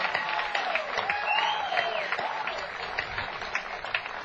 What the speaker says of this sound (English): I think you owe yourselves a round of applause